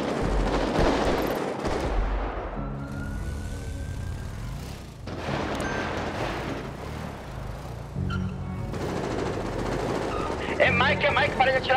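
Gunfire in a GTA RP police game, shots crackling over engine rumble and radio chatter, with speech running through the whole stretch.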